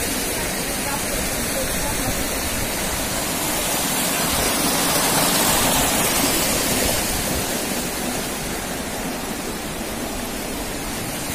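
Steady broadband rush of water, like a fountain or small cascade, fills a terrace in Plovdiv city centre, Bulgaria, continuous and fairly loud throughout with slight swelling midway and faint background voices.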